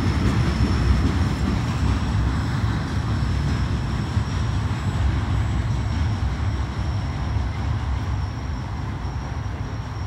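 A CSX freight train rolls across the Kenova Bridge in West Virginia with a loud, continuous rumble and rattle of wagons and a faint high wheel squeal, steady throughout with no voices.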